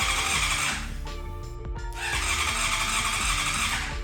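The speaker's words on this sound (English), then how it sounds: "The bike won't start." A Honda CBR600RR motorcycle cranks but fails to start, with a sustained whirring starter grind close by, a brief dip and clicks midway, then more continuous cranking that never catches.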